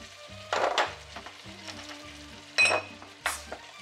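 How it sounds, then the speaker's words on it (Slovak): Pork spezzatino being stirred in a frying pan, with a few bursts of scraping and sizzle as the spoon moves through the meat, over a low steady background hum. "Premiešame."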